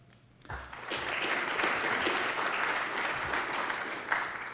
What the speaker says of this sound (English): That's enough applause for John